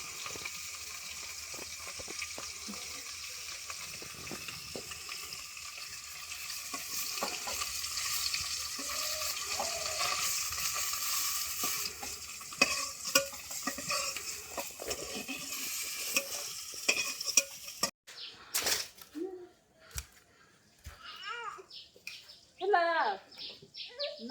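Fish fries in a pan in a Bangladeshi village kitchen, with a steady sizzling hiss for most of the stretch. Voices and some clatter take over near the end.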